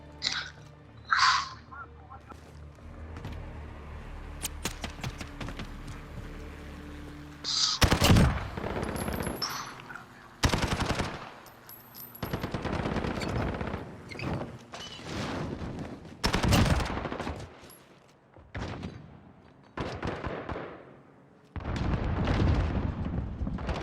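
Call of Duty gunfire during an HQ objective match, repeated loud bursts of automatic rifle fire and single shots in clusters, with players talking over the action.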